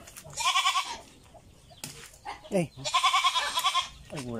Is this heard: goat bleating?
yes